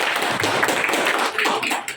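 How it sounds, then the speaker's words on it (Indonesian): Sustained applause from a class of sixth-grade primary school pupils right after they finish singing a patriotic song, steady dense clapping throughout. "tepuk tangan buat kita semua"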